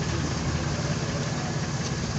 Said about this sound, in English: the engine is running now